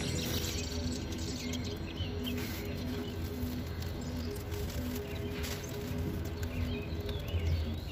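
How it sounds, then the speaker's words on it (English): Robins chirp off to the side of a spring garden, bright calls scattered through steady low outdoor background noise, with no talking. "Some robins are fighting off screen."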